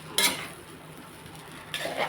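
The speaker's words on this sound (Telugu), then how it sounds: "ఇంకా కలుపునా, ఇంకా కలపమంటున్నాను." Prawn egg fried rice being stirred in a pan: two short scraping, clinking strokes of a utensil against metal at the start and end, over a faint background sizzle, with no talking.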